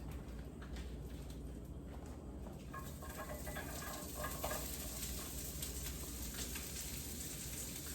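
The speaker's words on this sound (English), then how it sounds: "And I'm going to add in the onion, garlic, and ginger." Onion, garlic and ginger sizzling in a pan as they are stirred, a steady quiet frying hiss with soft scraping stir sounds, no talking.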